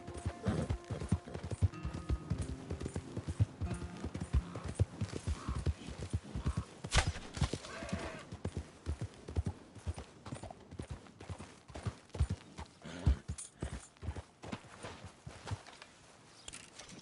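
Horse hooves clip-clopping at a walking or trotting pace in Red Dead Redemption II, steady rhythmic thuds that stay fairly close, with an occasional faint voice.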